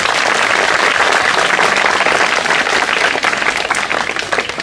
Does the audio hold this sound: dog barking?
no